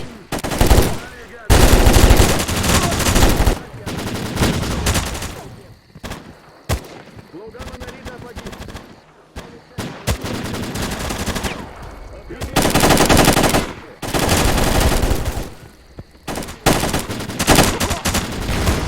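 Bursts of rapid automatic gunfire in a S.T.A.L.K.E.R. video game come in loud stretches, separated by quieter gaps, with scattered single shots between them.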